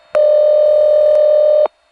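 A fake ring from a Slotsburg ringing machine on a crossbar telephone exchange: a single loud steady electronic tone around a second and a half long, starting and stopping sharply, with faint buzzing underneath.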